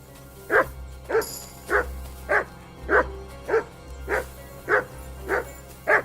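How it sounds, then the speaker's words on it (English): A dog in the video game Kingdom Come: Deliverance II barks about ten times in a steady, evenly spaced rhythm, each bark sharp and clear over a low background hum. "You barking at the chest for me to open it?"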